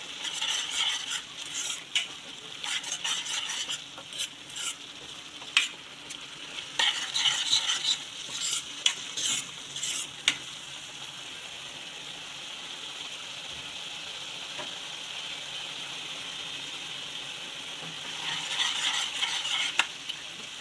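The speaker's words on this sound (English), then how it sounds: "Masala has been cooking up." Pepper prawn masala frying in a pan, with a steady soft sizzle under repeated scraping strokes of a spoon stirring against the metal, in bursts of quicker and slower stirring.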